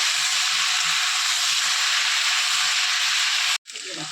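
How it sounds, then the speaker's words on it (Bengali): Pui shak (Malabar spinach) frying in a hot pan gives a loud, steady hiss and sizzle as it is stirred, with faint scraping underneath before a brief cut and the sizzle resuming. "এবার এটাকে আমি ভালোভাবে কিছুক্ষণ নেড়ে নেব এটাকে আমি দশ মিনিট নেড়ে নেবো"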